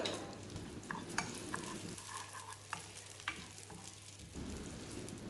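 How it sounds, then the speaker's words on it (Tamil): Moong dal roasting in ghee in a pan while being stirred without pause, a continuous close frying crackle and hiss with soft scraping strokes and a few sharper clicks from the spoon. "நெய் விட்டுட்டு நம்ம பாசிப்பருப்பை வறுத்துடலாம். கைவிடாமையே வறுத்துக்கலாம்."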